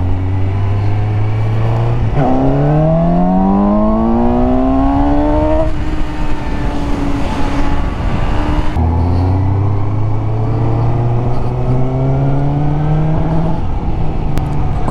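A motorcycle engine revs loudly and continuously while riding, its pitch climbing through several gear changes, dropping, then rising again under steady wind rush.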